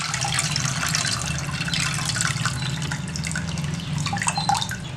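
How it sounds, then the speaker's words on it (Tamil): Tamarind water for rasam is strained and poured, a continuous splashing, trickling stream of liquid with scattered drips, close and fairly loud. "இப்போ அதை வடிகட்டி ஊற்றிக்கலாம்."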